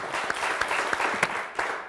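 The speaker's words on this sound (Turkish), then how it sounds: "Bize bir avuntu alkışı daha verir misiniz?" Studio audience at a Turkish word game show clapping briskly, a short burst of dense applause with sharp claps standing out, no talk over it.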